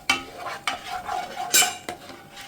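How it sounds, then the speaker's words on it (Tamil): Cumin is lightly sautéed in ghee in a pan for cauliflower rice. A utensil scrapes and stirs in a few distinct close strokes over a faint sizzle, with no talking. "கொஞ்சோண்டு லேசாக சாட்டே பண்ணிக்கலாம்."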